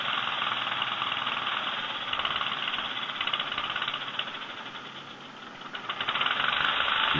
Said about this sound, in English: The engine's rattling around like crazy, trying to hold it